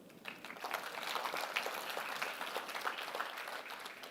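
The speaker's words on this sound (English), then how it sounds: "Give yourself a big round of applause." A conference crowd at an extended reality event applauds itself, fairly quiet and distant clapping that swells in after a soft start and holds as a steady, dense patter.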